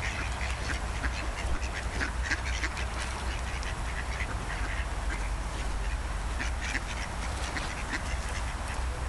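Many ducks being fed at the spa in Teplice nad Bečvou quack together in a dense, continuous chorus, close and lively, over a steady background hiss.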